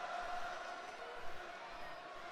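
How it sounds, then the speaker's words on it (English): A raucous crowd at a WWE Raw wrestling event in Columbus, Ohio, heard as a steady, distant roar that fills the arena without letting up. "Raucous crowd here tonight in Columbus, Ohio."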